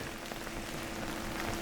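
Rain falls steadily during a bike ride, a continuous wet hiss and patter that stays even throughout, with no voices.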